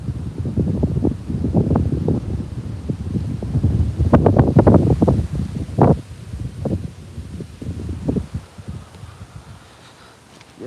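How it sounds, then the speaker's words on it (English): Gusty wind blows across a private pond during bass fishing, a steady rumbling roar with buffeting pushes near the microphone, easing toward the end; no voices. "Now the wind's blowing my bait back to me."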